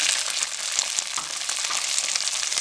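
Peas and onions fry in a pan over a medium flame, giving off a steady, dense sizzle with small crackling pops throughout, close up and with no voices.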